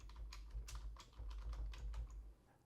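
Quick bursts of keystrokes on a computer keyboard while entering a search in Windows 11, light, close clicks in an uneven rhythm over quiet background hiss.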